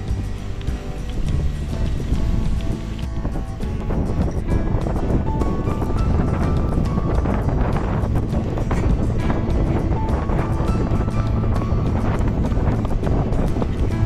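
Cold wind rushes across the microphone during an overcast midday bike ride toward Dingalan, a constant loud buffeting roar with rumbling gusts throughout.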